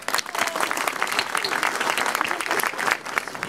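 Guests at a campaign office inauguration in Carpentras clap together, a crisp, moderately loud patter of many hands with individual claps distinct, steady for a few seconds.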